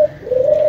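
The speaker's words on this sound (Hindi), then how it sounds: "शेख चिल्ली ये मेरा कबूतर है ना" A single close pigeon coo, a short soft throaty call rising and holding briefly.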